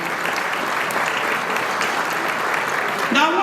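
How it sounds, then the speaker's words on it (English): An audience applauds a new DOT secretary at a governor's bridge project announcement, producing a dense, steady wash of clapping throughout. A voice briefly rises near the end. "Y'all give him a round of applause."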